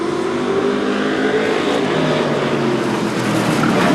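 Short-track stock cars in a 2014 super short track series roar off at the green flag start, a dense, loud, continuous engine drone with layered revving that holds steady throughout.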